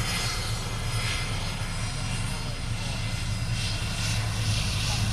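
An airliner departing Honolulu airport gives a steady, loud engine roar that fills the whole stretch without a break, with some talk faintly underneath.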